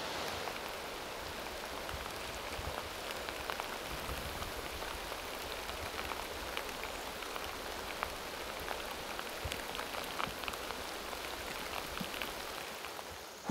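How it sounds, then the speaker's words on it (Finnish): Heavy rain pours steadily onto a forest trail crossing open bogs and boulder fields in summer, a dense, even hiss of drops on leaves and ground with scattered close patters, continuous throughout and free of voices. "Tää sataa sen verran kova, että piti pistää toi sadetakki jo joku aika sitten päälle."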